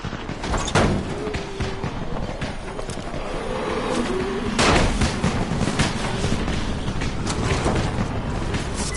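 Firecracker blasts go off in a Dying Light game scene, a string of sharp loud bangs and crackles, the biggest near the start and middle, over a constant dense rumble of background game noise.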